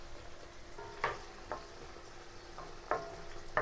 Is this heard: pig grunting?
no